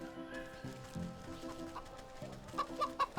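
A chicken in the video game Wytchwood clucking in short bursts, with a quick run of sharper clucks toward the end, close and moderately loud.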